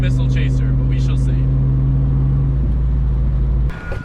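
A Toyota Chaser JZX100 engine runs at a steady idle, a deep even drone with a humming tone, while people talk over it; the engine note cuts off abruptly near the end.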